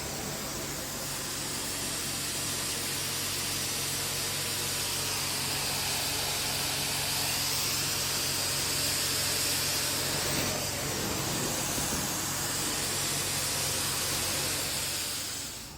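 A carpet steam cleaning machine runs steadily, giving a loud, constant broadband hiss and whir with a low motor hum underneath, unbroken for about sixteen seconds without speech.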